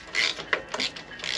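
Ratchet wrench with a 12mm six-point socket on a wobble extension working a bolt on a Yamaha MT-07 exhaust, a few short bursts of quick clicking ratcheting strokes close up, no talking.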